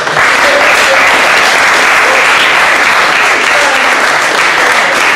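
Loud, dense audience applause after a close-up card magic trick, sustained evenly for several seconds without letting up.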